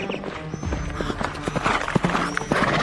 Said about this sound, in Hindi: राजा का घोड़ा तेजी से दौड़ रहा है।